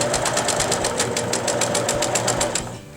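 A sewing machine runs a straight stitch in beige thread on a window treatment, a fast, even needle clatter of about a dozen beats that slows and stops at the end.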